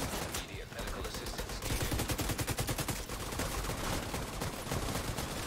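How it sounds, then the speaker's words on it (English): Rapid bursts of automatic gunfire in The Division 2, dense overlapping shots in quick succession, loud and close, with players talking over the shooting. "Keep shooting."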